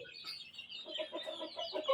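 Chicken clucking in short repeated bursts at a game-fowl yard, moderately close, over a steady high hiss, with a sharper call near the end.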